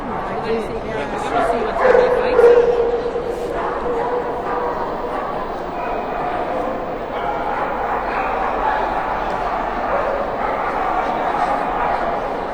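Dogs bark and yip intermittently in a busy hall at a dog show's Toy Group judging, with people talking throughout and a general crowd murmur.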